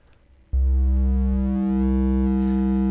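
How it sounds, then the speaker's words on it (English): A Z3TA+2 software synthesizer oscillator run through fold-back waveshaping distortion starts abruptly as a loud, steady buzzing tone rich in harmonics, holding level and growing slightly harsher toward the end. "So it folds back, it's kind of like a fold back distortion."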